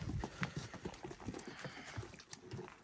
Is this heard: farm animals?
yes